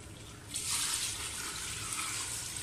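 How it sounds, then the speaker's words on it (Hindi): Water pours steadily into a pot of mutton trotters (goat paya) being cooked, a continuous close splashing rush that starts abruptly and holds at an even level throughout. "अब मैं इसमें अपना पानी शामिल करूंगा।"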